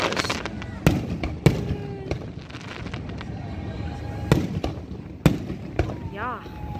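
Fireworks burst after rain in Arizona, sharp loud bangs at irregular intervals with crackling and whistling in between, heard amid background chatter and wind.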